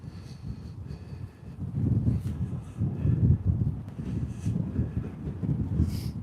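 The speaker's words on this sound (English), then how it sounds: "It'd be even more lovely if it weren't windy." Gusty wind buffets a microphone outdoors on a walk, a continuous low rumble that swells and eases in broad gusts, fairly loud and close, with no talking.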